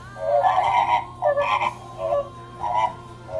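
A flamingo calls in four short, nasal, honking bursts. The calls are moderately loud and close, with brief pauses between them and a faint steady hum underneath.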